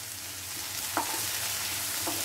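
Shallots sautéing in a pan for chicken, a steady soft sizzle and hiss with a couple of light stirring knocks, close and moderately quiet, no talking.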